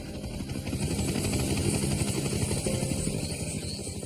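Steady, loud rotor and engine drone of a Coast Guard helicopter arriving at an air crash site, a continuous low throbbing with no pauses, heard without voices.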